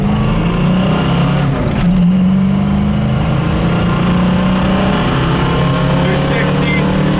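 A 1968 Ford Mustang with a two-barrel 289 V8 drones steadily as it drives on the road, heard from inside the car. The engine tone shifts slightly as it pulls, and a voice speaks over it.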